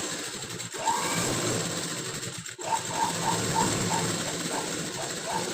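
A sewing machine stitching blouse fabric, a rapid mechanical whir with a rhythmic clicking of the needle mechanism, close by, pausing briefly before running again.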